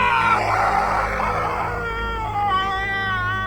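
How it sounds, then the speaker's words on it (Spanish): An agonized human scream used as a sound effect, long and wavering, rising into strained, tonal wails, loud and alone with no talk. "seguido de un grito desgarrador"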